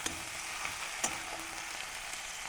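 Onion, green chilli and tomato frying in oil with cumin for aloo dum, a dense, steady sizzle held close throughout, with one brief clink of a utensil partway through.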